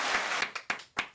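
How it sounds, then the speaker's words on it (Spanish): A few people clap briefly in a live podcast studio, a quick patter of claps thinning out into three or four separate, sharp claps that fade at the end. "Aplausos, por favor, aquí la señorita de los aplausos"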